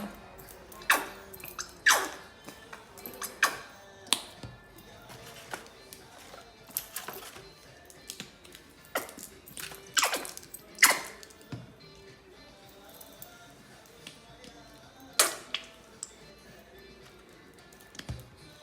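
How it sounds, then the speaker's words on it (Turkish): Paint from multi paint tins being poured and handled for coating a polyester fur-trimmed mirror frame, heard as scattered soft drips, taps and clicks at close range, irregular across the stretch with quiet pauses between. "Şimdi boyalarını dökeyim."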